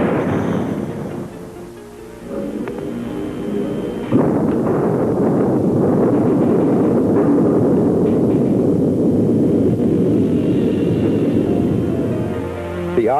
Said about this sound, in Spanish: La combustión o explosión de oxígeno y grasa requiere una fuente de calor para completar el triángulo de fuego.